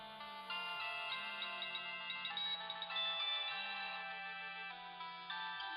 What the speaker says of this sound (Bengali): ডক্টর রয়ের ফোন, কথা বলতে হবে আমায়